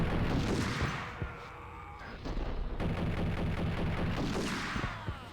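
Colt Commando rifle fire in the video game Max Payne, dense bursts of rapid automatic shots with a brief pause mid-clip, loud and close, no voices.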